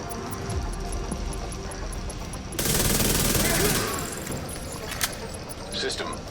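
A Vector submachine gun in The Division 2 rattles off a rapid burst of fire over steady game ambience, with a few sharp clicks after the burst.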